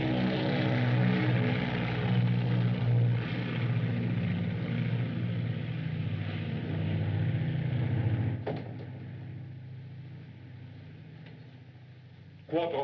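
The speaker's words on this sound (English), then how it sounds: "It's only the mail plane for London." A propeller mail plane bound for London drones overhead with a loud, steady engine roar that fades toward the end, leaving a quieter rumble before a brief sharp sound.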